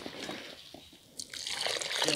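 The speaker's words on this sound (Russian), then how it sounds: "поддадим воды" Water poured into a fishing groundbait mix for roach, a soft trickle followed by a stronger, louder pour near the end.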